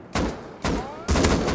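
A rocket launcher fires in the survival game Rust during a base raid: three loud, booming blasts about half a second apart, each with a whooshing trail.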